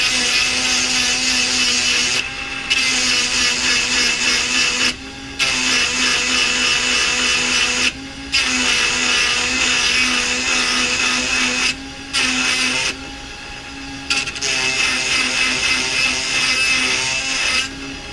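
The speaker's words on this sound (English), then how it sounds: "turn on the grinder" Bar-mounted Granberg Grind-N-Joint grinder sharpening a skip-tooth chainsaw chain, a loud steady whine held in long bursts, cutting out briefly between teeth several times, with no talk.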